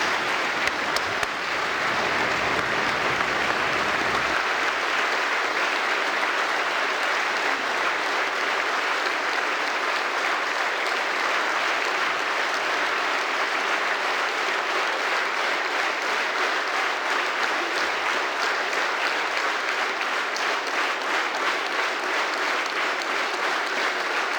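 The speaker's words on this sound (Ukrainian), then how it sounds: "Прошу привітати його оплесками." A hall audience applauds a Second World War veteran, the clapping steady and dense for the full stretch, close and loud, with no voices over it.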